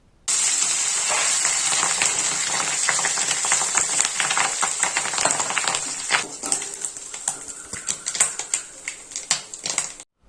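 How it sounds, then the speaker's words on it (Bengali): Rohu fish roe frying in hot oil, a steady close sizzle with dense crackling and popping that runs for the whole stretch and turns into sharper spitting spurts toward the end. "এবার ডিমটাকে ভেজে নিতে হবে"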